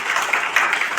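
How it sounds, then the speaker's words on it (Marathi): Applause from the audience at a Zadibolī literary society award ceremony in Brahmapuri, Chandrapur, with dense steady clapping held at an even level for the whole second. No talking is heard over it. "टाळ्या वाजवूया"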